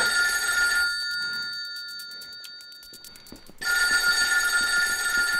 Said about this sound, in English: Great, the phone's ringing.